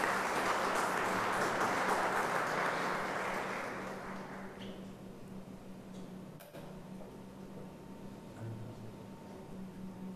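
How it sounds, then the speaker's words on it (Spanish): An audience at an electoral lecture event applauds to welcome Dr. Luigi Ferrajoli, with dense, steady clapping filling the room for about four seconds before fading into quiet room tone. "vamos a recibir con un fuerte aplauso al doctor Luigi Ferrajoli"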